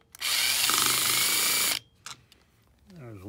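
A power drill runs loud and steady for about a second and a half, backing screws out of the tow receptacle plate on a VW Atlas, then stops; a few small clicks and a brief voice follow.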